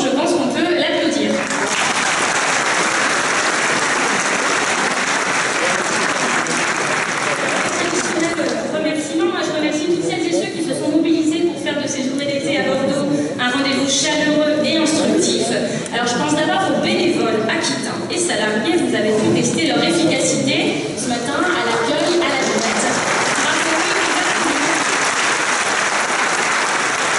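A conference audience at an opening plenary session breaks into sustained, steady applause that fills the hall for over twenty seconds, with voices mixed in before it fades.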